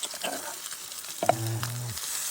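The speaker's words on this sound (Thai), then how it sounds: "เราจะผัดพริกแกงของเรานะครับ" Curry paste with dried chilies and a little shrimp paste stir-fried in oil in a pan while cooking outdoors in the forest, giving a steady soft sizzle with brief scraping stirs, close by, with no talk.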